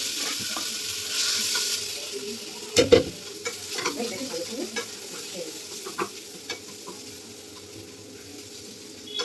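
Dried red chillies fry and get stirred in a pan, with a steady soft sizzle under scattered scraping and clinking strokes from a utensil, close and moderately loud, with a few sharper knocks.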